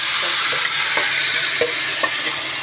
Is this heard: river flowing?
no